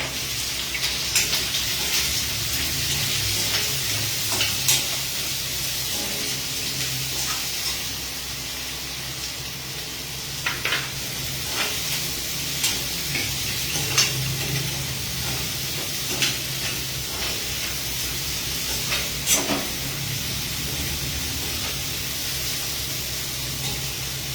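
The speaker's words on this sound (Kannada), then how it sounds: "ಈಗ ಇದಕ್ಕೆ ಸಣ್ಣಗೆ ಹಚ್ಕೊಂಡಿರುವಂತಹ ಈರುಳ್ಳಿ, ಕರಿಬೇವು ಸೇರಿಸ್ಕೊತಾ ಇದ್ದೀನಿ." Finely chopped onion and curry leaves frying in a pan on the stove, a steady close hiss and sizzle with occasional small pops and crackles, continuous throughout and alone without voices.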